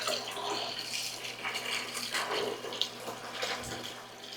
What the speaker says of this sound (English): So that bucket right there is what the tank is draining into,